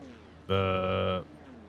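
A voice imitates a car engine at full revs: a steady, high, buzzing drone held for under a second, then cut off.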